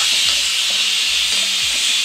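Onions frying in a pan for kara kuzhambu give a steady, loud sizzling hiss that stays constant and close, with no voices over it.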